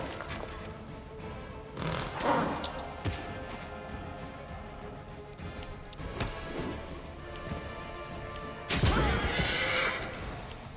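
A horse whinnies in the fantasy role-playing game Pathfinder: Wrath of the Righteous amid battle, with clip-clop hooves, crashes and weapon blows around it, ending in a loud impact, fairly faint overall.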